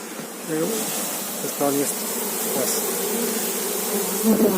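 A small honey bee swarm buzzes steadily near the listener, with a few louder passes of individual bees over the continuous drone.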